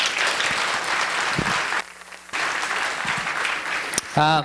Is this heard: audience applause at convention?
yes